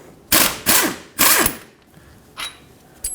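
Crankshaft bolt on a 1997-2006 Jeep Wrangler 2.4L engine is worked loose with a wrench: a few loud, close ratcheting clicks in quick bursts, then a quieter click and a short metallic rattle at the end.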